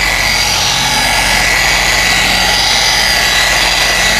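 A machine polisher runs steadily on faded car paint at low speed, blending the surface with a loud, continuous whirring drone and no pauses or talk.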